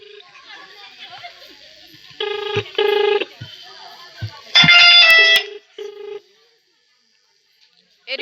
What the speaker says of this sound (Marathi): चांदणे साहेबांना फोन लावला जावा